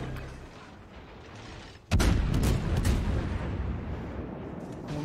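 The Henri IV cruiser in World of Warships fires its guns, a sudden loud boom after a quieter rumbling lead-in, followed by a rapid string of shell blasts and rolling echoes that stay loud to the end.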